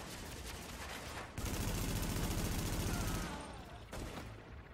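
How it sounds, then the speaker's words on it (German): Light machine gun fire in The Division, a dense rapid burst of shots growing heavier midway, then a brief pause and another short volley, loud over rumbling game ambience. "Jetzt habe ich auch mal ein leichtes Maschinengewehr am Start."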